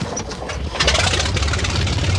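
A vintage aircraft piston engine cranks and catches, its rough low rumble swelling into a loud, close, sustained roar with no talk over it.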